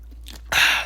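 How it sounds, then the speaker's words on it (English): A person takes a quick drink of water, a faint gulp followed by a louder breathy gasp or exhale after swallowing, heard close up and alone. "I had to drink water."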